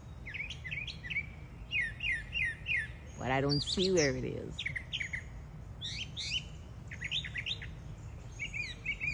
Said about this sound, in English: I can hear this bird,